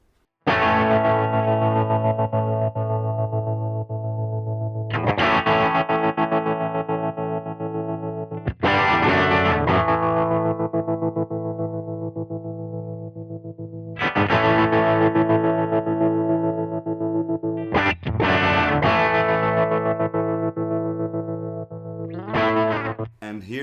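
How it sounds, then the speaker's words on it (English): Electric guitar chords ring out in several strums through a Walrus Audio Monument harmonic tremolo pedal on its random waveform setting, volume wobbling unpredictably with a chopped, irregular pulsing. "with the random waveform setting, you can get some really cool effects"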